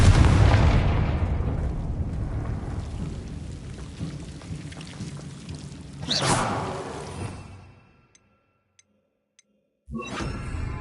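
A Confringo fire spell explodes in Hogwarts Legacy with a heavy booming rumble, followed by a sharp fiery whoosh that fades into near silence before the game sounds return.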